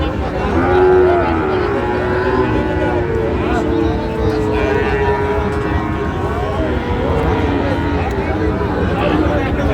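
Sahiwal bulls low loudly at a busy cattle market in Faridpur, drawn-out moos rising over constant crowd noise and people talking nearby.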